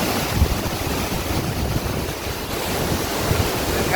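Strong water rushing at a dam at Arayat, Pampanga, a continuous loud roar of churning flow close by, steady throughout with some wind buffeting the microphone, in heavy rain.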